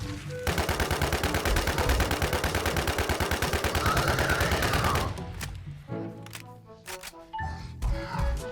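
Rapid, rhythmic automatic gunfire from shooting in a video game, a steady loud burst of evenly spaced shots for about five seconds, then scattered single shots and clanking effects.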